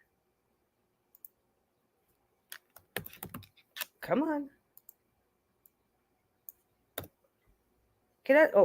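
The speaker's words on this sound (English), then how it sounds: "so we're gonna start typing" Sparse keystrokes click on a computer keyboard in a quiet room, scattered single taps and a short burst of typing, with someone briefly speaking in between.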